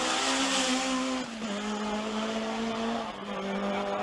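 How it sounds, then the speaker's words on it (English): A two-wheel-drive Toyota Celica Twincam Turbo Group B rally car on a special stage, its engine holding a loud, strained drone with a brief dip in pitch as it shifts, heard close and continuous. "Next up, the man 6th overall, the remaining Toyota two-wheel drive of Björn Waldegaard."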